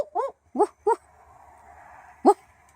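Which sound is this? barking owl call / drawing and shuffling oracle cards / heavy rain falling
barking owl call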